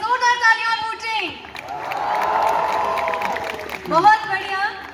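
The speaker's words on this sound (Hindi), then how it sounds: "वंस मोर, एक बार जोरदार तालियां और हूटिंग।" Another burst of audience applause and hooting at Rashtrapati Niwas, Shimla: a loud wash of clapping and cheers lasting about three seconds, framed by someone speaking on either side.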